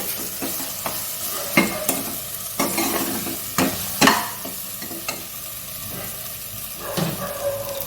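Ground spice masala is stirred and fried in a pan for a mutton ghugni dish, with a steady hiss of sizzling broken by repeated scraping strokes of a spoon against the pan, close and fairly loud.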